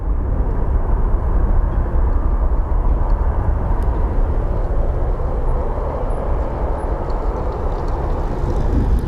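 A Boeing 737 takes off at Phoenix Sky Harbor airport, a loud, steady, continuous jet-engine roar that holds near constant for the whole stretch, with no voices.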